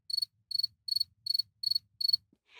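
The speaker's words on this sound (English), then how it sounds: "some drawn by the chirping" A cricket in a busy New York subway station chirps six times in an even, quick rhythm, each chirp a rapid high trill. It sounds close and clear over near silence, with a faint shuffle at the end.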